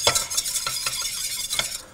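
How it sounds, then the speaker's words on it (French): A whisk beats egg yolks and water briskly in a saucepan over low heat, making rapid, rhythmic scraping and clinking strokes close to the microphone, with a faint sizzle underneath and no talking. "Et à feu doux, je vais fouetter énergiquement."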